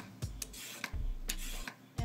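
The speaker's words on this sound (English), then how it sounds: "This is a great little swivel peeler." A smooth swivel peeler pulling long strips of skin off a green apple, giving a few soft, close scraping strokes in quick succession with short gaps between them.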